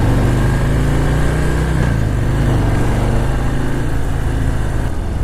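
A 2018 Harley-Davidson Breakout motorcycle engine rumbles with a loud, steady, deep idle. The throbbing low tone holds throughout with no talking.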